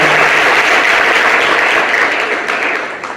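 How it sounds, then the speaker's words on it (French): An audience applauds at the opening of an eloquence contest semi-final, a steady loud wash of clapping that fades slightly toward the end. "la collaboration de M. Vincent Kobla Lemao, que je vous demande d'applaudir"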